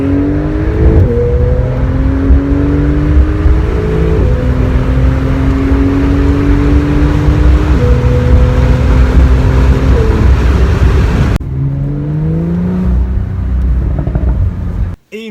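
A Porsche sports car pulls hard at full throttle, its engine note climbing through several gears with rising whine, a quick shift drop, then pulling again, loud and close from inside the cabin.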